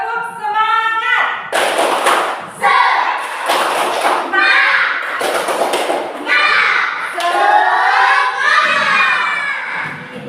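A class of third-grade schoolchildren does a rhythmic spirit clap, with bursts of loud unison clapping alternating with shouted chanting voices in a lively, echoing room.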